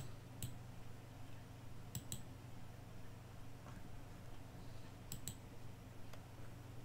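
Sharp, quiet computer mouse clicks come singly and in quick pairs, spread irregularly over several seconds above a low steady hum.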